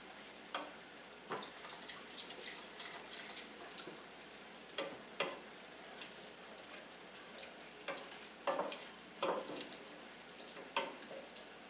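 Broth is stirred in a pot for cream of turkey rice soup, with faint, close scraping and sloshing strokes and light sizzle over a low background hiss.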